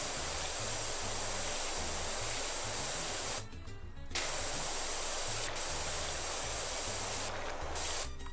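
Steady loud pressure-washer spray hissing in PowerWash Simulator 2 with a yellow nozzle, running almost continuously with one short break in the middle and a couple of brief dips near the end.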